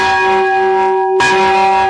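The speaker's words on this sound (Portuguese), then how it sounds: "A partir de agora, essas badaladas aí vão ser ouvidas todos os dias ao meio-dia e às 6 da tarde." The restored bell tower of the Bonfim church in Salvador rings loud and close, one sustained bell tone humming before a fresh strike lands and blooms again.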